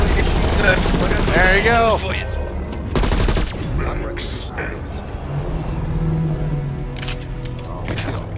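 Bursts of automatic gunfire in Call of Duty Cold War Outbreak, loud rapid volleys early and brief sharp shots later, mixed with game noise while people talk over it.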